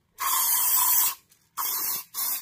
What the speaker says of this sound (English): I'm going to be spraying this into this mould